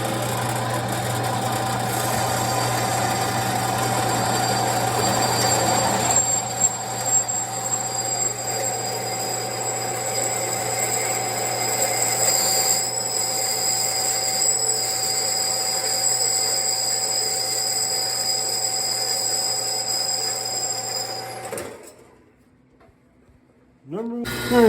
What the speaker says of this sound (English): So let's commence to cutting some bolts.